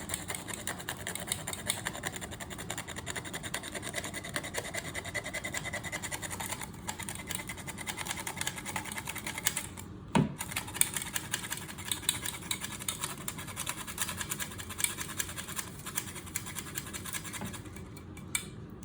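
Flour and cinnamon are sifted into a bowl for chocolate chip cookies, making a soft, steady scratchy rustle that runs without a break. One faint knock lands midway. The sound stays quiet throughout, with no talking.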